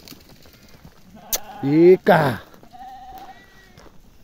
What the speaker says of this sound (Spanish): Han entrado las ovejas antes que las cabras.